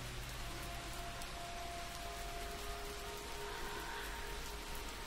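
Steady rain falling, a dense even hiss of drops that stays constant and moderately loud throughout, with no voices.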